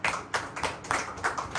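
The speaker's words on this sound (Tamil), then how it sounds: "கைத்தட்டி ஆண்டவர் மகிழ்ப்படுத்து." A church congregation claps their hands in praise in a series of sharp, fairly close claps that arrive in uneven bursts, with no voices.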